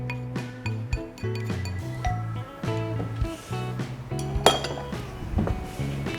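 Dark Van Houten chocolate and butter being mixed in a bowl, with a spoon or whisk clinking and scraping against the side in quick, irregular taps, close and clear with no talking.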